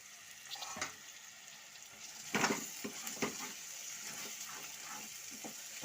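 Green peas frying in hot oil with spices and coriander for a matar paneer curry, a low steady sizzle with occasional stirring scrapes and clinks, fairly quiet and close.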